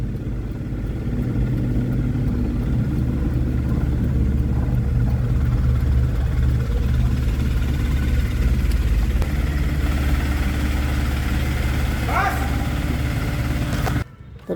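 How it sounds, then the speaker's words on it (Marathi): A car engine runs steadily while the vehicle reverses outside a building, a low continuous rumble close by, with a faint voice and an abrupt stop near the end. "रिवर्स घेतोय मित्रांनो गाडी."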